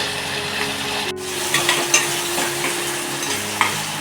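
Chopped onion and tomato fry in a pan for a simple homemade vegetable dish, a steady close sizzle with light stirring scrapes and a few brief clinks.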